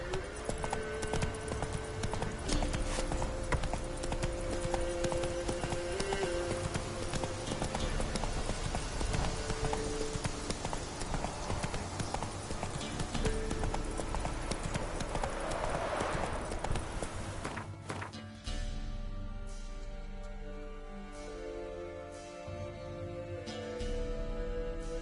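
A horse gallops with rapid, rhythmic hoof clip-clops, loud and close for most of the stretch, before the hoofbeats drop away and a quieter, tonal backdrop takes over near the end.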